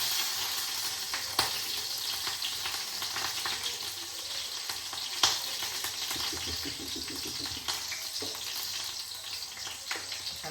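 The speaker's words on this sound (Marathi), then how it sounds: "कांदो मिरची तेलात परतून घेऊया व्यवस्थित भाजून." Green chillies frying in oil in a pan give a steady, close sizzle throughout, with a few light clinks and stirring scrapes, and no one talks.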